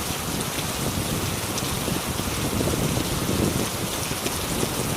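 Heavy rain falls steadily on a mountain trek, a dense, constant patter and hiss of drops close around with no pause over five seconds.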